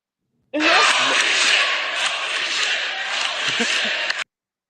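Studio audience clapping and cheering on a sports debate show, a loud dense burst of applause and shouts lasting about four seconds, then cutting off abruptly.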